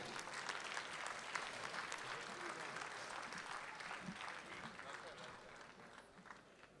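A large audience at a Republic Day mushaira and poetry gathering in Dubai breaks into dense, continuous applause for Dr. Gulzar Dehlvi, a thick wash of clapping that holds steady throughout, with a voice faintly underneath.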